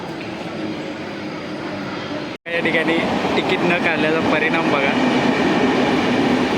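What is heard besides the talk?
train arriving at Mumbai station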